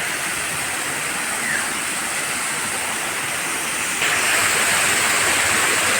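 Honan Falls, a waterfall in Isabel, Leyte, roars as a steady, dense broadband rush of falling water, close and loud throughout, swelling slightly louder partway through with no voices.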